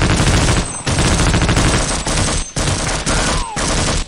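Sustained automatic gunfire in Half-Life: Opposing Force, loud and dense rapid bursts broken by a few brief pauses, close and continuous throughout, with no talk.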